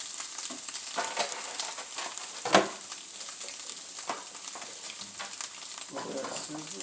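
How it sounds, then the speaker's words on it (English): Steady hissing sizzle of meat, onions and potatoes frying in a pan, close and continuous, with occasional scrapes and a brief clatter. "Let that sizzle."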